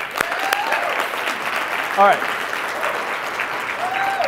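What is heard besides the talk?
audience applause for volunteer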